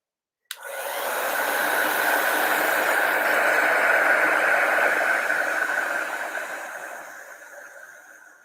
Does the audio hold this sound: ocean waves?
no